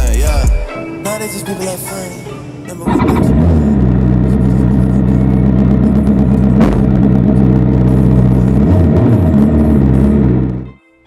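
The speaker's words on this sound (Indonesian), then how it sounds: "kita sudah jalan dengan BMW S1000 XR yang baru ini" A 2020 BMW S1000 XR sport-touring motorcycle is ridden, its engine humming steadily and loud with a rising tone, after brief opening talk, cutting off abruptly at the end.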